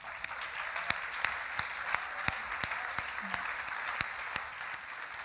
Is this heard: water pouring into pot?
no